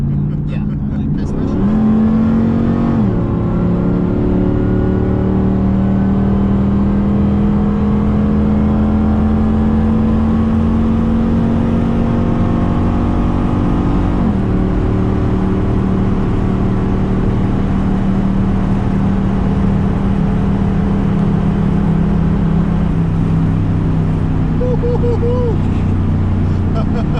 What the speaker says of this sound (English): That's as fast as I've driven this car in a long time.